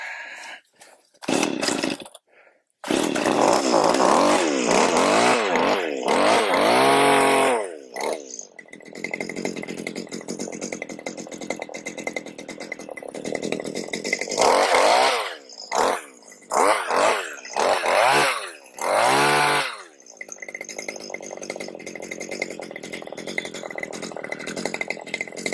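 A Stihl HS80 hedge trimmer's small two-stroke engine sputters and revs, dropping to a rough uneven idle between sharp throttle blips, loud and close.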